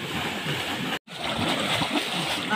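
River water splashing and sloshing near tree roots in a stream, continuous close splashing with one brief break, as water is beaten to drive fish into hiding.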